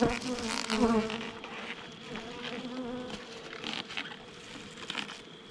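Honey bees buzz around an open hive during fall beekeeping work, a dense, wavering hum of many insects close by, with a few louder passes and faint handling noises.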